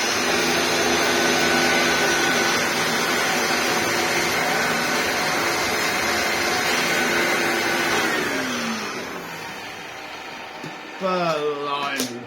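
Motor of a 1998 Dyson DC01 vacuum cleaner runs loud and steady with a high whine, then spins down with falling pitch near the end before a brief rising rev.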